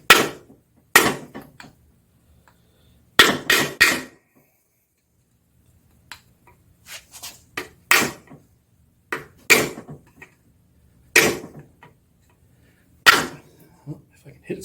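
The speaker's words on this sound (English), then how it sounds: "Now you can also hammer on this inside here" Sharp metallic hammer strikes on an engine freeze plug ring out, single and in quick pairs, spaced irregularly with quiet stretches and faint clatter between them.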